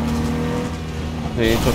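Car engine drones loud and continuous in Cyberpunk 2077 gameplay, with a brief rising rev near the end and a voice talking over it.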